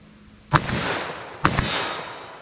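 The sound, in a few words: double-tap gunshots from a .357 Magnum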